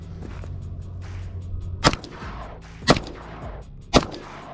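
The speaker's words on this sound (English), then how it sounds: "let's go ahead and shoot them up close" A Radian toy blaster fires three loud, sharp shots up close, spaced about a second apart, each with a quick snap over a low background hum.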